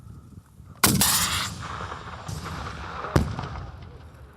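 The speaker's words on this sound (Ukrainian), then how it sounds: "снарядом доверху стріляєте РПГ вперед. Постріл!" A single sharp, loud blast from an RPG grenade launcher fired during military training, followed by a rushing roar that trails off, then a second fainter crack near the end.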